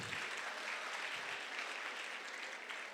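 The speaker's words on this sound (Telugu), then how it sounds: "Please give him a big round of applause." An audience at a motivational event applauding, a dense, even wash of many hands clapping that holds steady for the full few seconds.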